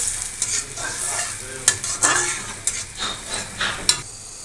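Jute greens stirred and fried in a pan, a steady close sizzle broken by several sharp scrapes and clatters of the spatula against the metal, with no talking.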